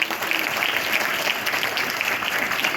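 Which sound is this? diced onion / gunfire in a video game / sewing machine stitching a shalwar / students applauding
students applauding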